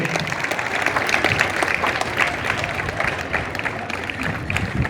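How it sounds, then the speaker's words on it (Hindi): Steady, dense applause from a sizable crowd at a political gathering, many hands clapping continuously at close range with a faint murmur underneath. "उनको भी हम लोग जोरदार तालियों से स्वागत करेंगे"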